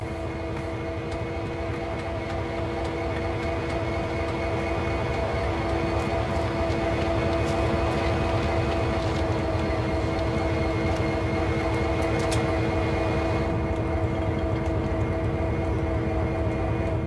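A CSX heavy diesel locomotive in the video game Train Sim World rolls slowly onto a turntable, giving a steady, droning engine rumble with a constant tonal hum that stays even and moderately loud throughout.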